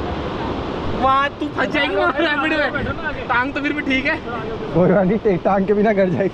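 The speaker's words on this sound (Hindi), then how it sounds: "पानी भाई पानी कितना उछल रहा है" River rapids splash and churn around a raft in Rishikesh, a constant watery rush that sits beneath loud, excited voices talking throughout.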